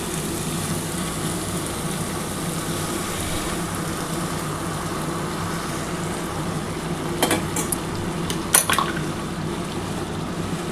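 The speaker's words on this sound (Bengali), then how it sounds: "বন্ধুরা দেখো এবার আমি কিন্তু গরম জলটা দিয়ে দিচ্ছি" Hot water is poured steadily into spiced goat meat curry in a pan, giving a continuous close hiss and bubbling sizzle with a couple of brief clinks near the end and no talk.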